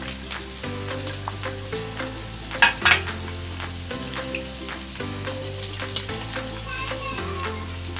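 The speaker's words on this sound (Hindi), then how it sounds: "इन तीनों वेजिटेबल को शामिल करने के बाद इनको 3 से 4 मिनट के लिए पका लेंगे।" Carrots and cabbage sizzle and are stir-fried in a pan for chicken fried rice, a steady close frying hiss with occasional scraping stirs and clinks, no talking.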